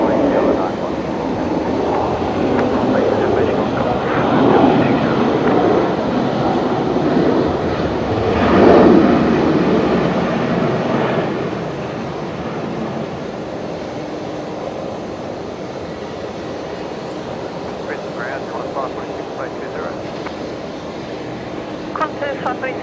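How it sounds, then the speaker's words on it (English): Qantas flight 546 from Sydney touching down at Brisbane Airport, a broad jet roar swelling to a peak then slowly fading into a lingering rumble, with faint voices. "that's Qantas 546 just touching down from Sydney"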